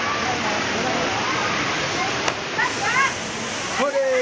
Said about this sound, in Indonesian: Air terjunnya nih, air terjun Serambangnya nih.